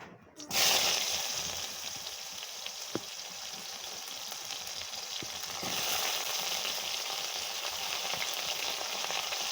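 Pointed gourds (potol) drop into hot oil in a pan and set off a sudden loud sizzle that holds steady with light spattering and an occasional clink, heard close up and without talk.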